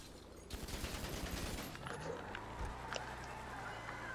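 Rapid burst of gunfire from a street shootout in GTA 5 roleplay, a quick run of loud shots early on that fades into a low engine-like rumble, with background noise throughout.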